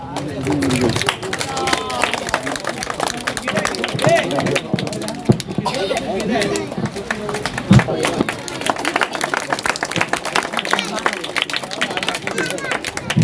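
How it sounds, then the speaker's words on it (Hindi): Scattered crowd clapping at an outdoor ward election gathering welcoming a local candidate, mixed with background chatter and voices throughout, irregular and fairly close. "आप हजरात तालियों से ज़रा इस्तकबाल कीजिए"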